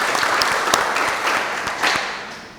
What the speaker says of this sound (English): if we could just get a round of applause for these two